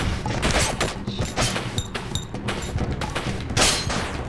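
Rapid bursts of video game gunfire and impacts from the four-player samurai fighting game Samurai Gunn, dense and loud throughout, with sharp shots scattered over busy game music and effects.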